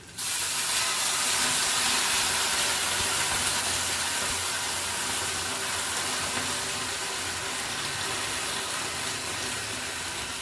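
Tamarind water pours into sambhar dal cooking on the stove, a sudden loud steady hiss and sizzle that holds and slowly eases over several seconds.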